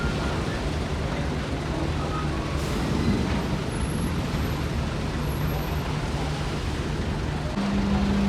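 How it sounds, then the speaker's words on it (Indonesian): A convoy of buses pulls out near Bakauheni port, heavy engines rumbling steadily amid road noise, with a brief air brake hiss near the end and no clear talking. "udah mulai rombongan bus-busnya ini keluar"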